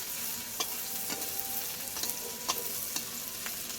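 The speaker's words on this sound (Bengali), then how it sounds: "রসুন কুচি দিয়ে দিলাম। একটু ভাজা ভাজা হয়ে আসুক রসুন কুচিটা।" Chopped garlic frying in oil in a pan, a soft continuous sizzle broken by several sharp scraping clicks of a spatula stirring, close and fairly quiet.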